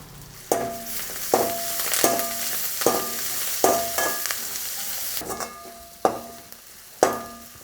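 Garlic and onion sauté in hot oil in a pan for a village-style crab curry while a spatula scrapes and knocks against the pan about eight times, each stroke sharp and close over a soft continuous sizzle.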